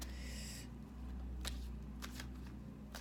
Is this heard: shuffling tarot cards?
yes